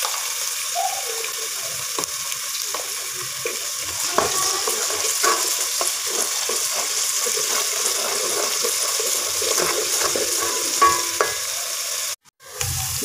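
Ginger garlic paste sizzles loudly in a pan of fried onions, a steady broadband frying hiss with occasional stirring scrapes and clinks, continuing throughout and briefly cutting out near the end.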